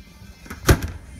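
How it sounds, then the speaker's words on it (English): A windblock door on a 2005 Four Winns 230/240 Horizon boat swings shut with a single short, solid knock, close by and alone, with a faint softer clack just after. "There's the door I was telling you about."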